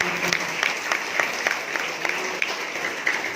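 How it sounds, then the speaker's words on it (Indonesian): A congregation claps at a church Christmas celebration, a dense, steady round of applause with a few sharper individual claps standing out, heard throughout at moderate loudness. "Beri tepuk tangan buat Tuhan kita."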